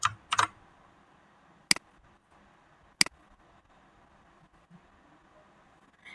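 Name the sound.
pressing Shift and Delete keys on a computer keyboard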